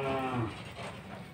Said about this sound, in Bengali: দেশি গরু তো ভালো গরু